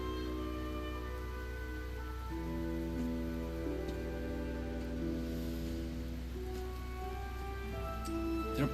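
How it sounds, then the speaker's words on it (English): Steady rain falls across a city in the video game Genshin Impact, a soft continuous patter that stays even for the whole stretch while sustained musical tones hold underneath. "When is this rain going to stop?"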